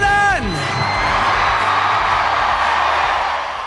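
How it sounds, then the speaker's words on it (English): Studio audience cheering and whooping as a comedian arrives on a TV chat show, a loud sustained roar of crowd noise and applause after a short rising whoop, with a voice briefly heard at the start. "A standing ovation just by saying where he is."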